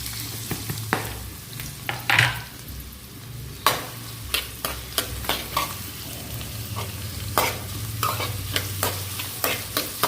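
Onion and dried red chillies fry in hot oil with a steady sizzle, while a spoon stirs and scrapes the pan in repeated sharp clinks and taps, close and clear, with no voices.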